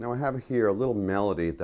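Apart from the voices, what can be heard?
No everyday noise stands out behind the speech.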